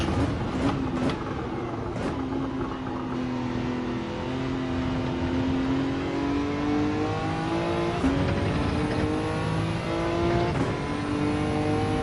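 Engine of an RB-engined rear-wheel-drive car in Gran Turismo 7 revs steadily under load, pitch climbing and dropping through gear changes with a few sharp shift blips, loud and continuous throughout.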